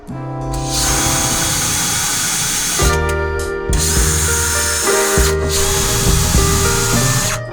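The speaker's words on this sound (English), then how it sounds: "Let's get these holes pre-drilled." A power drill bores pilot holes through plywood on the side of a camper van during a bed build, the motor whining loudly in sustained bursts with brief pauses between holes.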